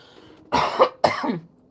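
Two harsh, chesty coughs in quick succession, close and fairly loud, with quiet before and after.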